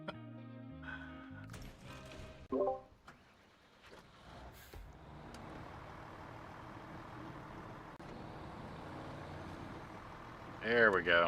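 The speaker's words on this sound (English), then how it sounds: "That sounds more like a truck." A truck engine idles and revs in SnowRunner, a low steady rumble that swells partway through, with a person talking over it and brief game sounds around it.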